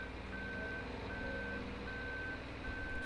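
Reversing beeps from a farm vehicle in Landwirtschafts-Simulator 17, a steady repeating electronic tone of four even beeps over a low engine rumble, no talking.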